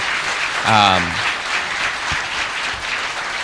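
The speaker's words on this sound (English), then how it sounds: "everyone please give him a real round of applause for coming here and being so open" Audience applause for Sam Altman, CEO of OpenAI, at a talk hosted by Economic Times, a broad sustained clapping from a crowd, with a brief voice rising over it near the start.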